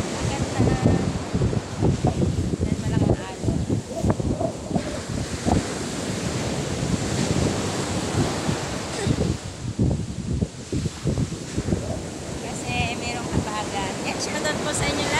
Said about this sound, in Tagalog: dahil sobrang laki ng alon, hindi tayo makakapag-ligo